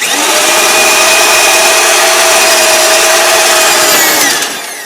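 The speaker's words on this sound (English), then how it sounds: "We can keep drilling a little bit here, but you don't want to go too far with it." Drill boring out a window regulator rivet on a BMW E36, a loud, steady, high whine held close for several seconds before it trails off at the end.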